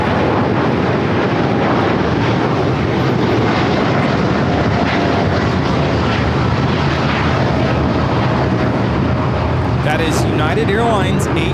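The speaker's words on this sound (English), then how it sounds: "801 taking off to Hong Kong on the 787-9 Dreamliner" A United Airlines Boeing 787-9 Dreamliner, flight 801 to Hong Kong, rolls down LAX runway 25 right in a loud, continuous, close jet roar with wind-battered rumble, people talking beneath it.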